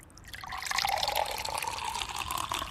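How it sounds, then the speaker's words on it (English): Vodka pours into a small glass in a steady, close trickle of liquid that lasts the whole moment, with no talk over it. "And pour in a small little glass of vodka."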